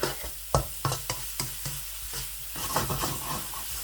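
Chopped green onions hit a pan of frying prawn rice and sizzle loudly, with repeated scraping stirs and clacks of a spatula over a steady crackle, close and with no talk.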